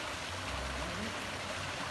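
Steady broadband rush of a waterfall pouring into a stream at a mountain swimming spot, loud and continuous with low churning undertones and no talk.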